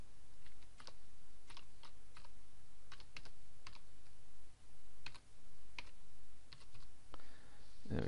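Someone types a directory name on a computer keyboard while setting up an FTP upload, producing irregular close key clicks in short bursts, with brief pauses.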